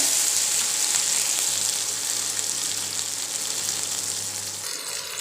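Tomatoes fry in a pan with a loud, steady sizzle that holds evenly throughout and eases slightly near the end, with no talking.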